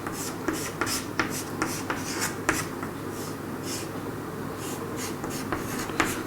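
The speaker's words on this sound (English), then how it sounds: "let me write it again above" Chalk or marker writing on a board during an organic chemistry lecture, a steady run of short scratchy strokes with sharper taps, close and moderately loud, with no talking.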